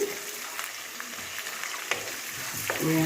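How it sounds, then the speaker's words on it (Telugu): Bottle gourd curry base of onions, curry leaves, salt and turmeric frying in a pan, a steady close sizzle broken by several stirring scrapes and clinks, with no talking. "బాగా వేయించుకోవాలి పసుపు వేసుకొని వేయించుకొని"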